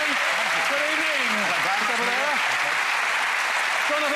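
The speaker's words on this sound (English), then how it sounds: "A nice round of applause for Jonathan." A television studio audience at a magic show claps loudly and continuously for a volunteer coming onstage, while a voice talks over the applause.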